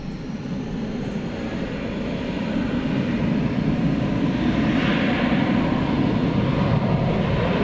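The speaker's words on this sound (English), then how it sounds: "The Doha-bound A350-1000 is just about ready to take off over on the east side" A Qatar Airways Airbus A350-1000 heads for Doha on its takeoff roll at DFW airport at night, making a steady broadband jet roar that builds slowly and holds loud and distant-to-mid-range throughout, with no voices.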